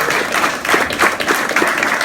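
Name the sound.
applause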